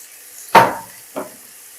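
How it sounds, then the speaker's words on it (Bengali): Chopped tomatoes, with eggplant, hitting a hot pan for a fish curry, a sharp sizzling hiss that fades, followed by a second smaller sizzle a moment later. "এগুলোকে এরপর ভালো করে ভেজে নেব"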